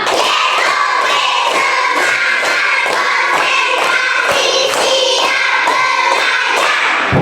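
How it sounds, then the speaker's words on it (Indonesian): A group claps in steady, regular rhythm, loud and close, each beat a sharp thud with voices faintly mixed in. "Tepuk semuanya"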